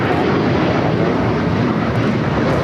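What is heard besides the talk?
JetBlue airliner taking off from runway 25 right at LAX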